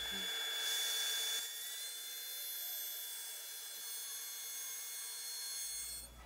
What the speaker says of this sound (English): the next step is to route a dado in the top of this so I can mount a piece of track